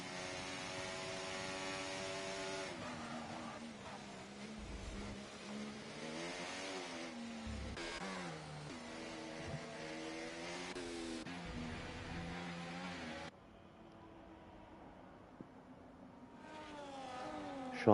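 Race cars circle the Abu Dhabi circuit in a racing video game, their engines whining and revving in long rising and falling tones as several cars pass, with a brief quieter stretch near the end.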